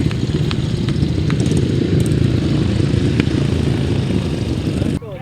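A grasstrack motorcycle race meeting in Worcester, 2006: a steady, loud roar of racing bikes carries on throughout, ending in a sudden cut.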